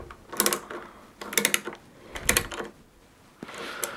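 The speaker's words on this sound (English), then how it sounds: "you tighten the nut up on the bit of studding, grab your spanner" A spanner tightens a nut on threaded studding fitted to a Warco WM180 lathe spindle: three quick bursts of metallic clicking and ratcheting, close and quiet, followed by a softer clink.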